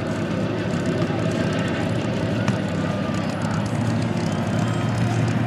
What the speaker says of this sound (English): taxiing out more of the legendary aircraft from World War II